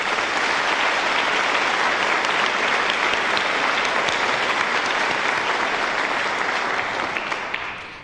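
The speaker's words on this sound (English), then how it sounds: "Let's take a moment to give them a round of applause." A graduation audience in an auditorium gives a physician assistant class a round of applause, a loud, dense, sustained clapping from a large crowd that tapers slightly at the end.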